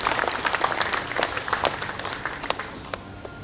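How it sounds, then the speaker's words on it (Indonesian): Crowd applause at a Partai Demokrat anniversary gathering honoring the party's secretary-general and treasurer, a dense steady patter of many hands clapping at moderate loudness for several seconds. "Tepuk tangan untuk Sekjen dan Bendum kita."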